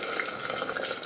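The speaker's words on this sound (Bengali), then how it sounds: "তেল ছিটছে পুরো রান্নাঘরটা আমার তেল হয়ে গেল।" A katla fish head fries in a pan of spattering oil, giving a close, steady crackle and sizzle throughout the short stretch, with no voices.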